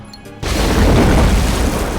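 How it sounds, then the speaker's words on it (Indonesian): A film explosion from firecrackers set off by a trigger device erupts suddenly as a loud, dense boom and sustains a roaring crackle for well over a second before cutting off. "Ronnie mengaktifkan alat pemicu mercon, yaitu untuk menghalangi helikopter yang hendak menjemput Victory."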